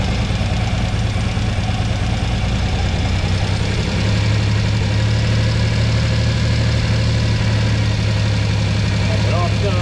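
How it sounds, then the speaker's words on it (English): 1997 Honda Acty engine idles rough and loud in a shop, a constant knocking drone that steps slightly higher partway through as it is idled up, with voices faint under it. "I'm gonna idle it up a little"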